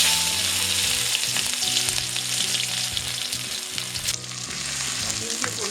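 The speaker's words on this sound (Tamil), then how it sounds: "இஞ்சி பூண்டு போட்டாச்சு" Ginger and garlic frying in hot oil in a pan for a Kerala-style squid roast, a loud close continuous sizzle with light stirring scrapes and utensil taps running through it, no voices.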